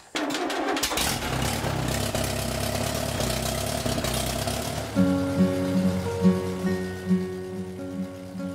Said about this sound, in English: This is Alice Chalmers, 1948B tractor, same year as me,